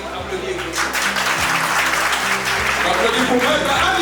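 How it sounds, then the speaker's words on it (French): Hall audience applauding at a political party congress, sustained clapping that swells and stays loud, with a voice speaking over it near the microphone. "Applaudissez pour Maître Ali, s'il vous plaît."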